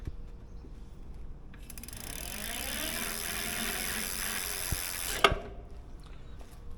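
A 750-watt e-bike hub motor spins up from quiet to a steady mechanical whir with rising tonal whine, holds for a few seconds, then stops sharply with a clunk, close and fairly faint.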